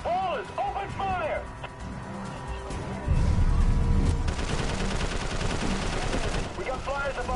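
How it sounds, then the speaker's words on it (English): Sustained automatic gunfire crackles through a Prototype 2 game battle, loud dense bursts swelling midway under shouted voices and scattered game sounds. "Wallace, open fire!"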